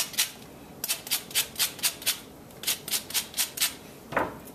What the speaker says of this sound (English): so just going to go in with a bit of that lemon zest in there